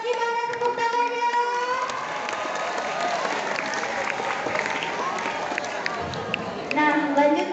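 At a school student council election, the crowd claps again, louder and more sustained, a thick wash of applause lasting several seconds. Speech is heard at the start and returns at the close.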